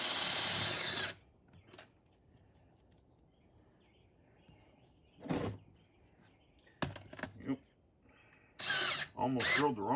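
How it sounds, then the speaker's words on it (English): A power drill bores out a hole in a steering box mount on a 1962 C30 truck during a power steering conversion, in several separate whirring bursts split by quiet gaps, close and loud. "what I'm going to have to do is drill this one hole out,"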